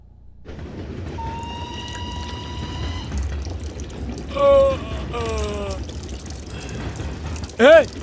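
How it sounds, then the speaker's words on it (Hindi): Water flows steadily in a scene from a Hindi-dubbed Chinese film, a continuous broadband rush that runs throughout, with whistling tonal sounds and two brief louder swells rising above it. "पानी बह रहा है।"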